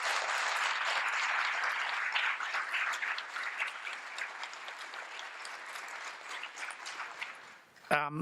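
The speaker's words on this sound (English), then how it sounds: "Let's give them all a big round of applause." An audience at a state poetry recitation final applauds, starting loud and full and then slowly thinning over several seconds, and a voice comes in briefly at the end.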